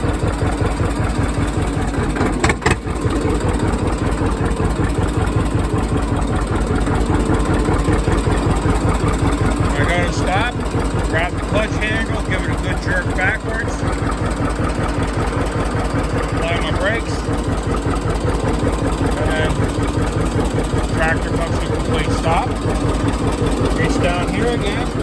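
A vehicle engine fitted with a hand clutch idles steadily for the whole stretch, a constant low rumble with an even pulse, while someone talks over it.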